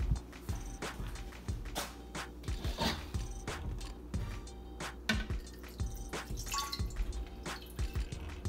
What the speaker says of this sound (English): Now we're gonna start pouring.